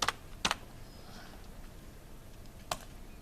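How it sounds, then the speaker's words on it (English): A few scattered keystrokes on a computer keyboard, sharp close clicks, two near the start and one later, over a quiet room background. "I'll type that in so I don't forget."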